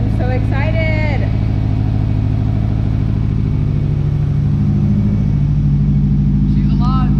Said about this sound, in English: She's alive, boys. She's idling a little bit high.